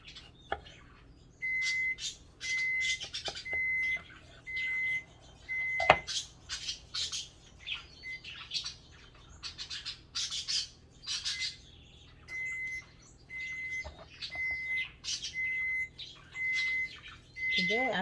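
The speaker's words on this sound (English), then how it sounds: "the oven is just beeping away" A kitchen oven beeps while an apple spice upside down cake is being baked: runs of short, evenly spaced electronic beeps repeat twice, mixed with busy chirping and clatter in the room.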